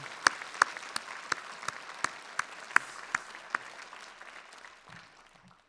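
A church congregation claps in encouragement, soft and somewhat distant with a handful of crisp individual claps standing out, thinning and fading away near the end.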